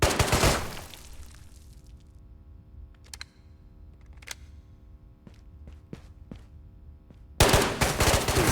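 Gunfire in the video game Ghosts of Tabor: a scattering of sharp shots and clicks amid a humming background, bracketed by louder bursts of noise at the start and end.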